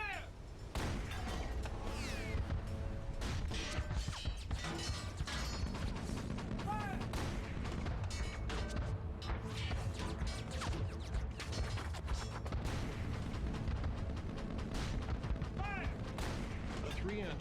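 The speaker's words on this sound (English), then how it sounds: "Gallery and his men think that the Germans are attempting to man their guns and open fire. So they open fire first." Naval gunfire aimed at the German U-boat U-515, a dense run of sharp cracks and heavy booms with clattering impacts throughout, fairly faint and layered under a background voice.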